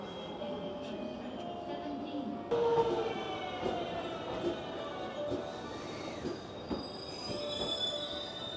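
A train pulls into a station in Japan, its wheels squealing in shrill, wavering tones over a rumbling, rattling background, with sharper screeches and clanks midway and faint station chatter around it.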